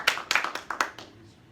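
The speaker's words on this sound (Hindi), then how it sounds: "कि एक जोरदार ताली दे फ्रांसिस के लिए।" A handful of separate sharp hand claps from a small group at a church fellowship service, spaced irregularly and fading out after about a second.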